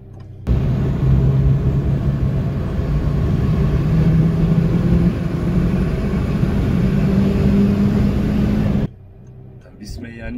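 A 400 hp VW Lupo accelerates on the Autobahn with a loud, sustained engine roar that rises steadily in pitch, then cuts off abruptly near the end.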